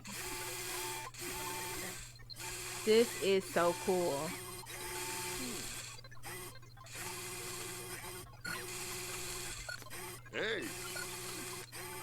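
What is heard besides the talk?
3D printer working in video game The Sims 4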